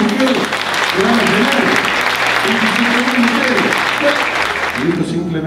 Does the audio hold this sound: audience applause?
yes